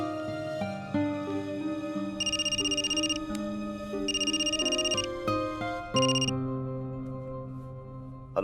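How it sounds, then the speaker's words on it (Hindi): A telephone rings with an electronic ringtone, repeating bursts of bright, high trilling tones over a melodic tonal pattern, loud and close with no one speaking. "रॉय सर को फोन करती हूँ।"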